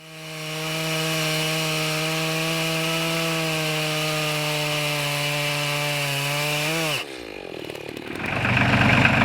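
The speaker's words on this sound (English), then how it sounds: "Cutting wood." A saw cuts walnut tree logs outdoors: a steady, droning motor whine holds for about seven seconds, then drops in pitch and breaks into rougher, noisier cutting sound as the blade bites the wood.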